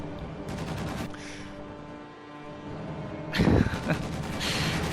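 A large assault gun battle in a strategy video game, with bursts of gunfire and crashing impacts. The fire swells loudly near the end, while a voice talks over part of the battle.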